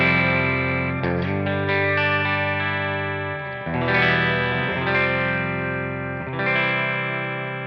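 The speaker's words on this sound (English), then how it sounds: "We have the clean channel of the Revv Generator Mark III," Electric guitar through the clean channel of a Revv Generator Mark III amp, several ringing chords strummed and left to sustain, loud and close with no talking.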